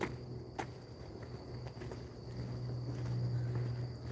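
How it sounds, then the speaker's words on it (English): Crickets chirp steadily outdoors at night during a nature walk, a faint, continuous insect trill with a soft low hum beneath and occasional light rustles nearby. "You hear the crickets chirping."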